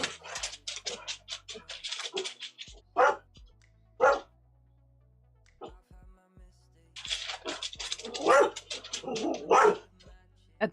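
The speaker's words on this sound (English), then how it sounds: "I don't know who you're barking at." A house dog barks at someone passing outside, loud and close, in short bursts of several sharp barks separated by quiet gaps.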